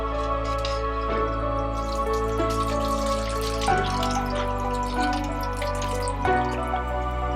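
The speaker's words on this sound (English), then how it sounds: "Now we're going to drain the beef just like how we drained the rice" Water runs and drips steadily into a kitchen sink as beef is drained, a continuous close splashing flow with faint tonal hum underneath and no talking.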